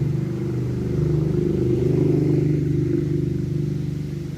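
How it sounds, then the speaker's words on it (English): A motorbike passing a garden front yard gives a loud, steady low engine drone that swells slightly in the middle and eases off toward the end, with no talk over it. "a bike was just passing"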